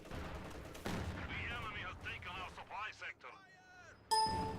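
Infantry support gun firing at a house in the Company of Heroes 2 video game, a sharp heavy blast followed by scattered gunfire and ringing clangs amid battle noise, with a voice talking over it.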